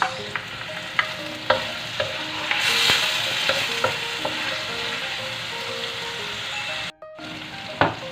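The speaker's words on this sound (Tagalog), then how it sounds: "Lagay natin yung kamatis." Tomatoes stirred into a hot frying pot for sinigang na munggo with pork hock: steady sizzle under repeated spoon scrapes and knocks against the pot, one brief dropout near the end, no talk.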